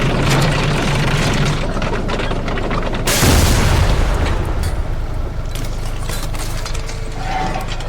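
Tank cannon fire from a ZTZ-99A 2026 variant at a SISU armored vehicle in a tank battle game, with one loud boom rising out of steady rumbling engine and mechanical noise.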